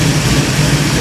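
A rowdy small-block hot rod engine idles loud and close, a thick low lumpy rumble holding steady for a brief moment with no talk.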